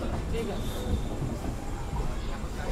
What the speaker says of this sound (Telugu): ట్రైన్ వచ్చేసి మాల్దా టౌన్ నుంచి అయితే బయలుదేరిపోయింది